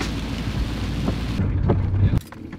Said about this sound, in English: the tinkling of rain on the roof is really nice